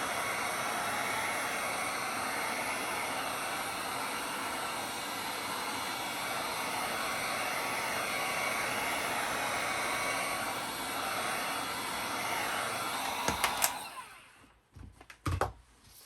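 A hair dryer or heat gun warming a Lexan RC truck body blows a steady loud rushing hiss for about thirteen seconds, then cuts off, leaving a few handling clicks and bumps.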